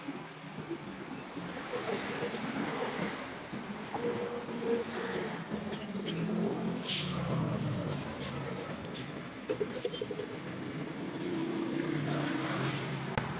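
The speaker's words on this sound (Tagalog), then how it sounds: "Traffic po." Road traffic passing steadily as a broad, continuous roar with swells of passing vehicles, heard outdoors from a walk along the street, moderately loud and unbroken, with no talk.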